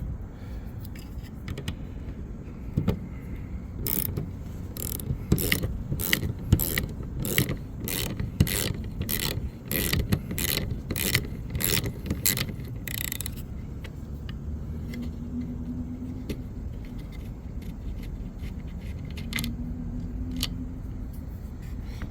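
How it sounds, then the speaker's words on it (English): A ratchet on a 12mm socket loosens the rear wiper nut of a Nissan Juke, giving a fast run of crisp clicks for several seconds over low background noise, then stopping. "12mm socket, and you're going to break it apart by moving it to the left."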